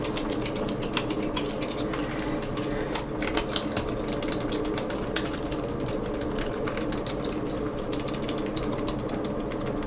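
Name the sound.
keys being mashed on a Lenovo ThinkPad T61 laptop keyboard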